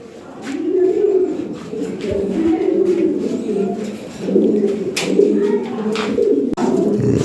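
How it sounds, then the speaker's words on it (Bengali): Fancy Lahore pigeons cooing, low rolling coos repeating steadily and close, with occasional flutters and clicks in the background and no talk. "এখানে এক পেয়ার কবুতর আছে টপ কোয়ালিটি"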